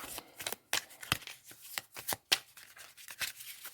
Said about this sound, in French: je vous tire donc une carte